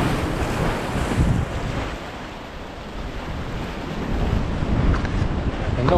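Sea waves wash and surge continuously against a shore at Comino, Malta, in winter, mixed with gusty wind buffeting the microphone, fairly loud and close.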